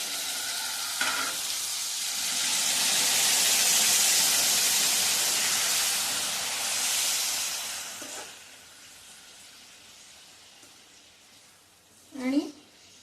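Steam hisses from a covered pan of stuffed ridge gourd cooking in spicy masala, a loud broad hiss that swells and fades over several seconds, then quiets, with a brief clink near the end.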